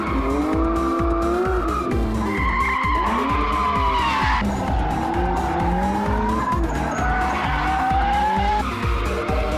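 Competition drift cars in an elimination final slide and skid with sustained, wavering tire squeal over loud engine roar, the pitch bending up and down as the cars swing through their slides.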